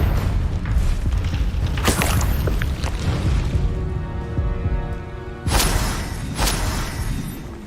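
Fire spell explosions in the video game Hogwarts Legacy: two loud blasts with a whooshing rush, one early and one later, over a constant background of game noise.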